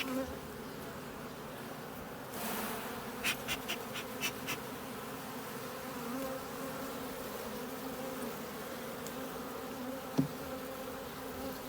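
Honeybees buzz steadily around a beehive in a dense, continuous drone, with a few brief clicks and taps breaking through.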